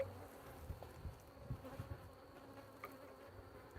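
Honeybees hum and buzz around an opened brood box during an afternoon hive check, a close, steady drone with individual bees zipping past the microphone in brief swells.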